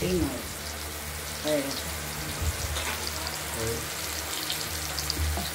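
Ash gourd slices stuffed with poppy seed and chilli paste fry in hot oil with a steady close sizzle and crackle, a few brief stirring clinks and a voice talking over it.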